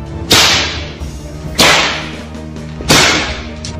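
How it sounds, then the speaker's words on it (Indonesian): Three sharp, loud whip cracks ring out at even intervals in an audio drama about a martial arts battle, each a piercing snap followed by a short decaying tail. "orang-orang yang sedang bertempur itu pun telah dikejutkan oleh ledakan cambuk yang memekakkan telinga"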